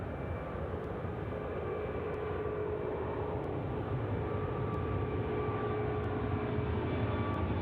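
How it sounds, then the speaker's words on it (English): A Cathay Pacific Airbus A350-900 taking off on runway 34 left at Sydney Airport at night, a steady, distant broadband engine roar that builds slightly as the jet accelerates, no talking. "It's Cathay 138 now, rolling runway 34 left. The A350-9er."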